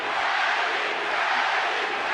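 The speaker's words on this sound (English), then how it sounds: "The crowd get behind Pacquiao." Spectators at a boxing arena during a Pacquiao vs Cotto bout raise a sustained, loud roar of cheering, steady and unbroken from start to finish.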